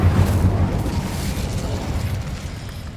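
An Incendio fire spell bursts in the Hogwarts Legacy video game, giving a loud, sustained fiery rush and rumble that fades slowly over a few seconds.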